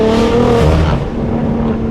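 BMW G8x M3/M4 fitted with a Valvetronic Designs exhaust, revving hard and loud up close, then easing off into a steady droning idle.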